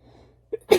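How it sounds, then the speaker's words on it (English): A single sharp sneeze, close and loud, preceded by a brief faint intake of breath, then quiet. "And another sneeze coming on."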